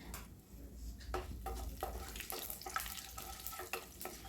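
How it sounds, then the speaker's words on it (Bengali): Leftover dal, thickened from the day before, heats in a pot with added water, giving a low simmering hiss broken by repeated scraping stirs and soft knocks of a spoon, steady and close, with no talking. "এটারে একটু জল দিয়ে একটু গরম করতেছি"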